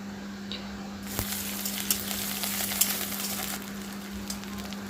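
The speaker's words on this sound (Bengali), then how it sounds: "তো আমি এই যে পেঁয়াজটা আমার ভাজা হয়ে গেছে।" Onions fry in a pan for a Bengali eggplant shukto, giving a soft, steady sizzle with occasional crackles and the clink of stirring, with a low constant hum underneath and no talk.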